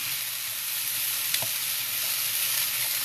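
Steady, close sizzle and frying hiss of a pan of cooking vegetables just deglazed with a tablespoon of Worcestershire sauce, a continuous bright wash with a brief stir clink midway, no voices.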